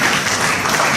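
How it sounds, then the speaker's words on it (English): Dense, steady applause from a large audience fills the whole moment, loud and continuous with no pauses. "So a big round of applause for these two volunteers."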